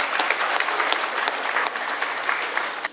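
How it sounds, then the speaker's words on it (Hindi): Steady applause from an audience at a Hindi poetry gathering, many hands clapping densely and evenly throughout, fairly close and full, with no talk over it. "एक बार मिलकर तालियां बजा दो सबके सब"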